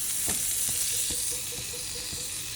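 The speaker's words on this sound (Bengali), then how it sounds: "একটা ডিম ফ্রাই করেছি দুটা ব্রেড ভাজিয়ে দেবো" Slices of bread frying in a pan beside a fried egg, a soft continuous sizzle with faint rhythmic scraping or stirring taps, heard close up without talk.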